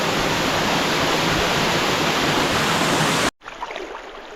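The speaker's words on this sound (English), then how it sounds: "Oh wow, there's an awesome waterfall up in there." Waterfall on a creek in Tasmania, heard as a loud, dense, unbroken roar of falling water that cuts off abruptly near the end, leaving quieter, fainter ambient sound.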